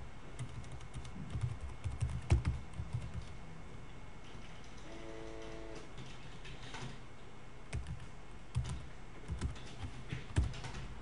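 Someone types code on a computer keyboard, quiet irregular key clicks in short bursts with occasional heavier keystrokes, close and alone in a quiet room.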